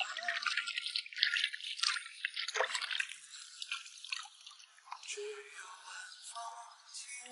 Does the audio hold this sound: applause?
no